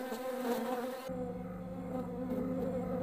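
Bees buzzing steadily, a dense continuous insect hum with a low drone that thickens after the first second, close and moderately loud with no voices.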